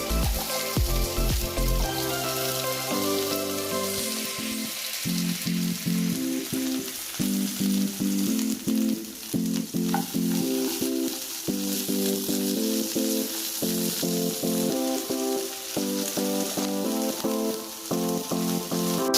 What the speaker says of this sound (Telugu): పచ్చిమిరపకాయ ముక్కలను వేయించుకుందాం. అలాగే బెండకాయ ముక్కలను కూడా వేసుకుందాం.